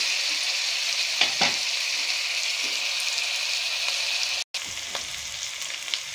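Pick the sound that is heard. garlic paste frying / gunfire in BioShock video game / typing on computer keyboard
garlic paste frying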